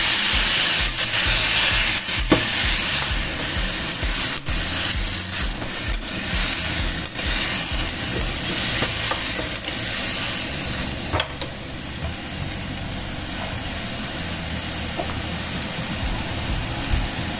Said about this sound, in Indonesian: Masukkan cabenya, lalu setelah itu masukkan sedikit air ya,